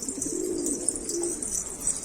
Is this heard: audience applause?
no